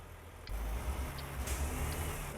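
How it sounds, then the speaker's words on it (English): Freightliner FTL diesel engine in a truck driving video game mod, a low steady rumble that swells after a moment, with faint mechanical clicks above, heard alone. "You're gonna hear that sweet diesel engine in there, purring as she can be"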